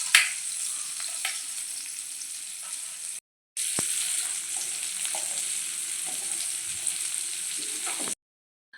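Chopped onions frying in oil in a wok, a steady, close, bright sizzle with faint stirring scrapes, briefly cut out twice, with no talking.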